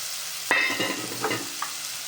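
Coriander is tossed into an okra curry frying in a pan, bringing a sudden sharp sizzle burst followed by stirring scrapes and a steady low crackle, close and alone.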